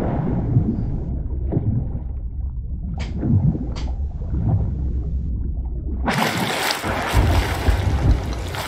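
Stormy sea in the pirate game Sea of Thieves: steady wind and rolling waves wash around a boat, then a loud roaring surge breaks in about two-thirds through and carries to the end.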